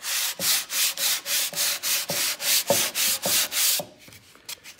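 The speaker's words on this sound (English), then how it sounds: "when you take your flat sanding block" Rhythmic back-and-forth strokes of a flat sanding block on black paint of a Yamaha RD350 motorcycle, about a dozen even rasping passes up close, then a few lighter scrapes.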